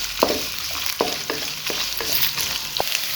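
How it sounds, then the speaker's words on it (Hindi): Vegetables fry in a pan over a medium flame with a continuous sizzle, broken by several scraping stirs and soft clinks from a spoon against the pan. "जस्ट हम इन वेजिटेबल्स को फ्राई करेंगे"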